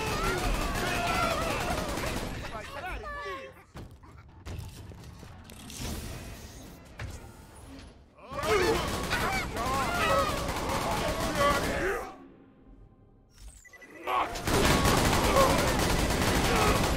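Rapid gatling gun fire in the video game Borderlands 2, coming in loud sustained bursts broken by short pauses, mixed with game effects and a player's voice talking over it.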